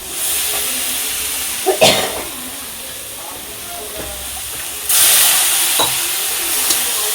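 Water splashes into hot masala frying in a pan, bursting into a loud hiss and sizzle that flares twice amid stirring clatter.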